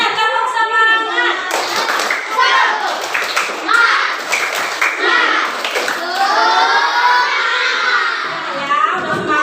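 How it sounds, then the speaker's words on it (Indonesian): Schoolchildren in a classroom clap together in a rhythmic spirit cheer, loud and close, with children's voices shouting and chanting along over the claps. "coba semuanya tepuk semangat"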